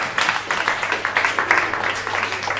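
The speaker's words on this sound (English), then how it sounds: "Let's get a round of applause." Audience applause at a hackathon, a brief burst of clapping with rhythmic hand claps at moderate volume, fairly close, with faint voices mixed in.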